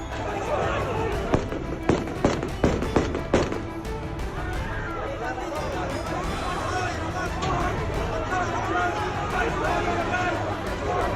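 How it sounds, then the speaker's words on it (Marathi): A quick series of sharp cracking gunshots, about six in a row, ringing out at an airport in Afghanistan over a noisy crowd and background commotion. "गोळीबाराच्या आवाजानं विमानतळाचा परिसर अक्षरशः दणाणून गेला."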